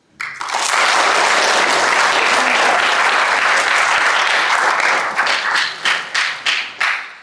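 University students applauding themselves in a hall, a loud sustained burst of crowd clapping that swells quickly, holds steady, then breaks into scattered fading claps.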